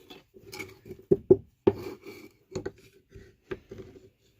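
A serrated metal kidney scraped across a clay tile during pottery work, making a series of short rasping strokes with some louder scrapes, close by and without any voices.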